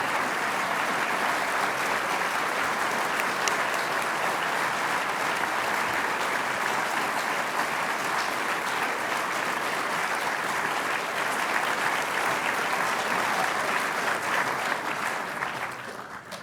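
An audience at a congressional district debate at Randolph-Macon College breaks into loud, sustained applause, dense and even throughout before tapering off at the very end.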